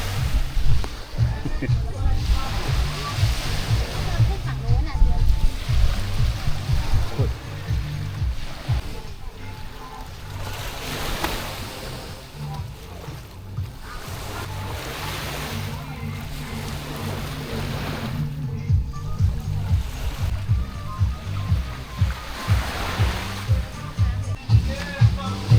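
Sea waves on a beach at Bang Saen, surf swelling and washing in slow recurring surges under wind noise, while someone talks over much of it.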